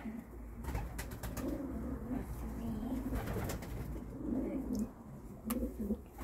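Racing pigeons coo in a loft, a low throaty burbling that rises and falls continuously over a steady background hum, with a few soft clicks and rustles nearby.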